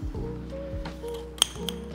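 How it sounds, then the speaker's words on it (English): Two sharp, bright clinks from the glass jar of a Daiso coffee mill being handled, close and short, over a low background hum. "The jar that came with it is an actual glass jar, right?"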